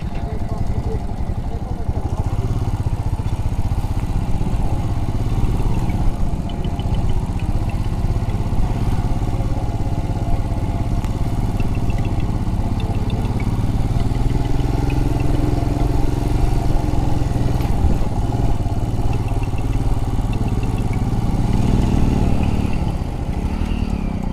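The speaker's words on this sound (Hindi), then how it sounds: "बाइक वाले तो यहाँ से आ जा रहे हैं" Motorcycles pass along a road near Bhangarh Fort in Rajasthan, a continuous mix of engines droning and rising under steady talking nearby, with road clatter throughout and no clear silence.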